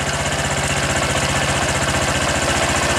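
A Honda Supra X 125 PGM-FI motorcycle engine runs steadily throughout, a loud close-up idle with a fast regular pulsing and mechanical rattle, alone without talk.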